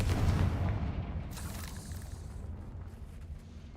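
The Confringo blasting spell explodes in Hogwarts Legacy: a deep, heavy boom that hits at once and rumbles away over a few seconds, with a faint crackle of debris in the tail.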